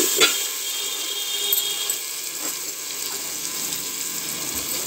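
Tomatoes, salt, chili and turmeric sizzle in hot frying masala over cumin, a steady broadband hiss with a few light clinks of utensils, close and continuous, no voices.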